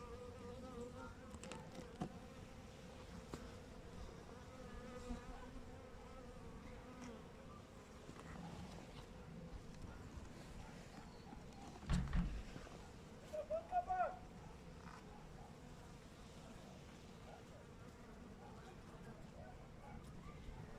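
Honeybees buzz in a steady, moderately faint drone around an opened hive during a winter check of a weak colony's stores and brood. A voice speaks briefly under the hum, with a few short handling knocks near the middle.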